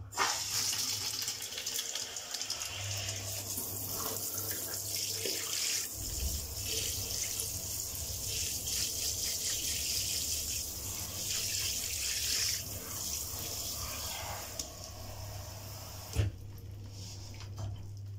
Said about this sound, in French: on va mettre un petit peu d'eau